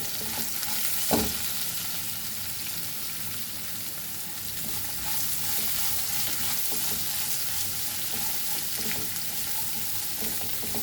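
Onions frying in a pan for Goan tomato salad bhaji, giving a continuous crackling sizzle with a sharp utensil knock early on and light stirring throughout.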